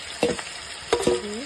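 Marinated broiler chicken and onions sizzle in a kadai, steady frying hiss with two or three quick spatula scrapes close by.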